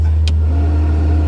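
An Austin Allegro engine running with the choke on hums low and steady from inside the car, with a brief hiss near the start and no talking.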